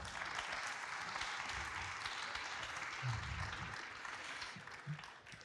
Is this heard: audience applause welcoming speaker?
yes